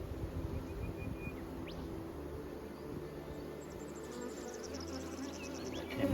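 Honeybees in a strong brood box hum and buzz steadily during a nectar flow, with a few sharper wingbeat whines rising above a dense low drone throughout.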